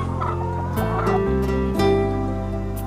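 Chickens at a commercial poultry farm supplied with chicks from a Chitwan hatchery cluck and call repeatedly, several birds close by, loud and continuous with overlapping tonal squawks.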